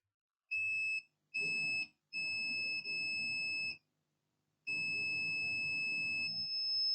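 Continuous tones from a multimeter in continuity mode sound during testing of coils on an HP ProBook 450 G2 laptop circuit board: a steady high electronic beep switching on and off in several bursts of varying length, close and clear.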